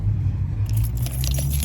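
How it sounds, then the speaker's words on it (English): Car door being locked with keys, a brief metallic jingle and click over a steady low engine-like rumble close by. "Let me lock my door."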